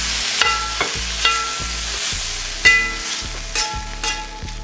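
A steak sears in a hot pan, a steady crackling sizzle close up with periodic thuds and scrapes as it is moved about, no talking.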